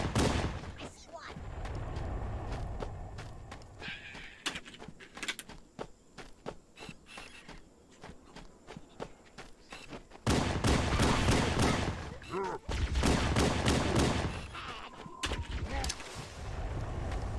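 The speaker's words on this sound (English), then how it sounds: "This is just a regular human pistol." Pistol shots in Halo: Combat Evolved mixed with other weapon fire, sharp repeated reports in irregular bursts, growing into dense, loud gunfire in the second half, with talking heard in between.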